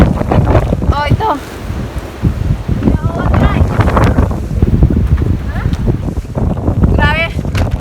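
Strong snowstorm wind in Canada roars and buffets the microphone without letup, with several voices talking and calling out over the gusts.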